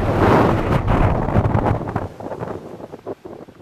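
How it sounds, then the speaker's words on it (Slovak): Strong wind gusts roar against the microphone on a mountain trail toward Rumanov štít in the High Tatras, loud and buffeting at first, then easing into lighter, fluttering gusts. "Slušný vietor"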